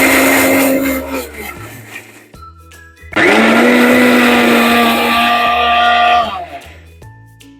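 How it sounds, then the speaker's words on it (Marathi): An electric mixer grinder churns a coarse mixture of bajra and rajgira with a loud, steady whine, drops in pitch and pauses around the midpoint, then roars back up before slowing again near the end; no one talks over it. "तर चला आता आपण मिक्सरला हे लावून घेते."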